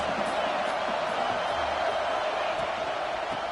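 A football stadium crowd roars as a steady, broad wall of noise, loud and unbroken across the few seconds, with no distinct voices standing out.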